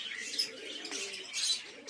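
Pigeons in a loft during rain coo and chirp in short overlapping bursts, fairly close, with a brief flutter of wings.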